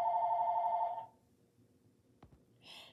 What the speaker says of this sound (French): le bruit du téléphone